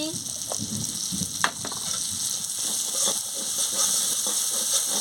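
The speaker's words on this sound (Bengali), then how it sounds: "আমি ভালো করে মশলাটাকে ভেজে নিচ্ছি।" Spices and poppy seed paste with green chili and turmeric sizzle steadily in a pan for Bengali potol aloo posto, a continuous near frying hiss with occasional stirring scrapes.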